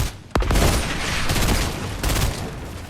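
Gunfire and RPG explosions in Fortnite: a sharp blast followed by sustained rattling gunshots and a second burst of fire, loud and dense with no speech over it.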